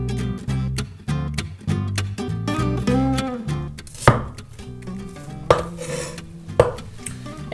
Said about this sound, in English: Now, I'm gonna slice these onions just into some